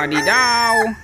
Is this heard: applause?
no